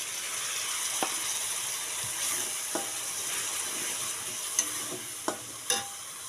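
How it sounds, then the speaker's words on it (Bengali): Steady sizzling fills the pan as garlic, chilli and turmeric fry, broken by a few sharp clicks and scrapes of a spoon against metal. "মশলা ভাজা হয়ে গেছে"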